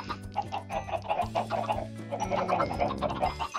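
Chickens in the video game Minecraft cluck over and over, several calls overlapping in a busy, continuous burst of clucks with no talking.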